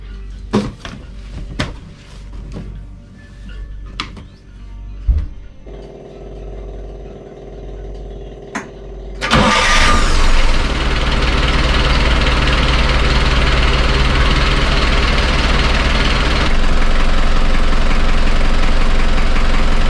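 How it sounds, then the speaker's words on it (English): An engine cranks with clicks and rattles, then catches about halfway through and settles into a loud, steady idle that runs to the end, with no talking. "let's fire this thing up"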